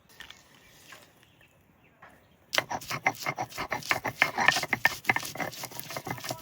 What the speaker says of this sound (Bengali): চিংড়ি মাছ তো ঠান্ডা হয়ে গেছে, এবার পাটায় করে বেটে নেবো।